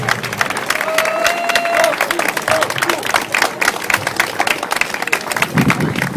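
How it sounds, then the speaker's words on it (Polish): Crowd at a Żywiec half-marathon applauding and cheering the runners, steady dense clapping up close for several seconds while voices carry over a loudspeaker. "a od nas gorące brawa!"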